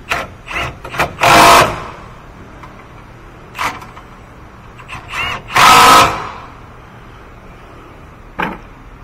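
Power tool tightening the center bearing bolts on a 2006 Toyota Tundra driveshaft, heard as a few short whirring bursts with two longer loud runs and pauses between them, close by, with no talking.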